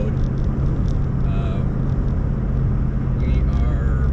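A Jeep Wrangler Rubicon 392 with an H-pipe exhaust cruises uphill on a highway at about 65 mph under light load, producing a steady low engine drone and road rumble, with a voice talking over it.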